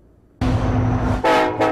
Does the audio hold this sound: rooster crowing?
no